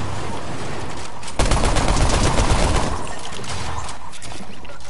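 Rapid bursts of gunfire from a ranked battle royale video game, a dense volley around the middle over steady game background noise.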